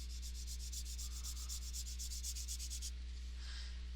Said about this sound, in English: Here I'm using the bristle of my brush to create some texture in the hill